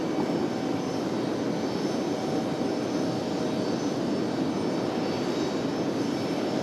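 An Air Canada jet at Raleigh-Durham airport gives a continuous, even engine roar, loud and unbroken throughout, with a faint high whine riding on top and no talk.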